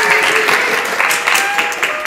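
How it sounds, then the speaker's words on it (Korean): Applause from a small group at a company staff gathering, brisk, fairly close clapping that runs steadily for about two seconds with no talking over it. "박수 소리가 작아서 20만 원이라면."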